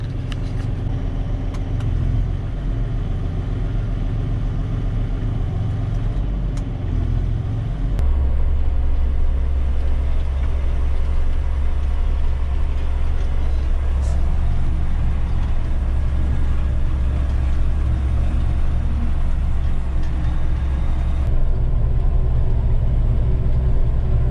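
A tractor engine runs on a farm during field raking, a steady close low rumble that deepens and grows louder partway through as the load or revs rise, with no talk.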